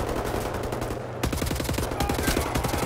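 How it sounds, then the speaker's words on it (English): Rapid automatic gunfire in Wolfenstein: The New Order, a loud dense burst of shots that breaks off briefly and then resumes in a fast rattling stream. "Look, I'm shooting."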